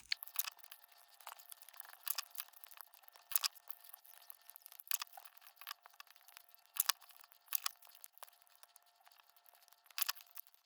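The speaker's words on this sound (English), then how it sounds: "So just tear it into strips, cut it into things so you can cover everything smoothly" Paper being torn into strips for papier-mâché, heard as a string of short, crisp rips and crinkles spread irregularly over several seconds, close and fairly quiet, with no talking.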